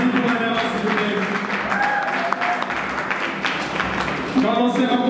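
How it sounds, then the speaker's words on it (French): Audience applause for a female artist at a cultural event in Bukavu, a sustained patter of clapping from a crowd heard through the clip, with voices speaking over it. "L'applaudissement pour Émérance, s'il vous plaît."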